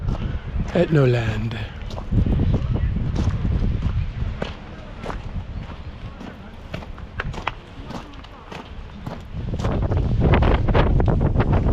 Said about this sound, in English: And it's a bit windy out here.